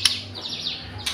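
A three-month-old young songbird chirps in short bright bursts near the start and end, with fainter warbling tweets between, close and alone over a low background hum.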